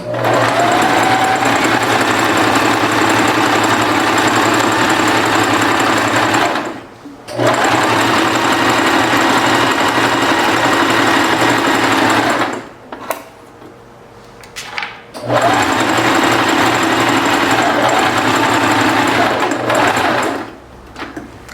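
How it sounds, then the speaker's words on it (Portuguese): A sewing machine runs a zigzag stitch across the width of a fabric piece, a loud continuous mechanical whir with two short pauses, running alone without talk. "eu tô costurando no zigue-zague no sentido da largura"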